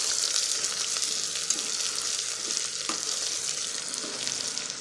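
Ginger garlic paste and green chilli paste fry in a pan for matar pulao, a steady, close, even sizzle with faint stirring scrapes and no talking.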